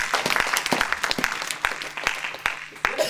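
A church congregation claps and applauds in acclaim of the Lord during a sermon, a lively burst of many hands with crisp, irregular claps, fairly close, with voices mixed in.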